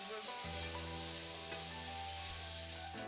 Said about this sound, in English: as soon as you add that in, you should hear a nice sizzle